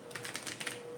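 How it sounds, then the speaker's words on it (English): Playing cards being shuffled in quick riffling bursts, a crisp papery flutter repeating steadily for about a second, close and fairly quiet with no talking. "right now, I'm just shuffling for you"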